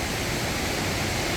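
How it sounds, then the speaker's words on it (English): Steady, dense rushing of the raging Fraser River beside a British Columbia campsite, a loud unbroken roar of churning water with no voices. "And again, have the sound of this river."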